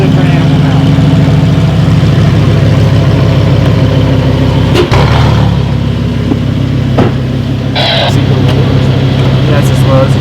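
A Lamborghini Huracan STO's V10 engine runs at a steady, loud idle throughout, with a brief low rumble shift midway and faint higher clatter later.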